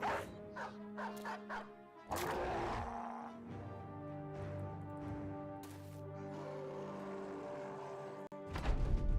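A war dog in Battle Brothers gives a short run of rapid barks, followed by combat clashes and an impact, with further sharp game effects near the end.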